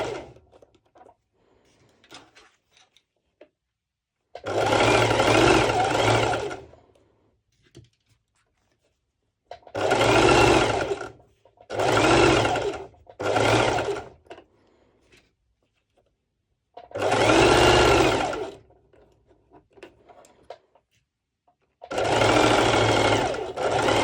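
A sewing machine runs a long straight bust stitch on a sporty top in five separate steady bursts, each lasting one to two seconds, with quiet gaps between them.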